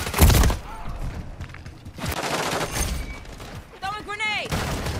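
Rapid gunfire bursts in the video game Modern Warfare 3, loud and close, with automatic fire, thuds and impact sounds over a few seconds, mixed with a voice speaking and a short tonal game effect near the end.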